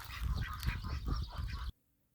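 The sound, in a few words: chickens clucking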